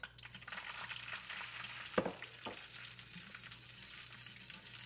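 Shallots sizzle softly in a pan under a steady frying hiss, with a sharp scrape and clink of a utensil as they are stirred partway through.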